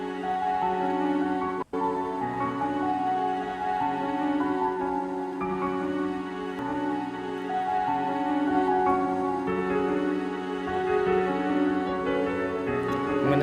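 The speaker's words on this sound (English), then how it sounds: "now I'm gonna pitch down the melody I have by 3 semitones" Trap beat melody sample pitched down three semitones plays as a sustained, layered harmonic loop at moderate level, with one brief dropout near the start and no talking.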